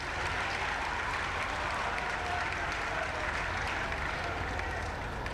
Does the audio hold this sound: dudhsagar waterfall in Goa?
no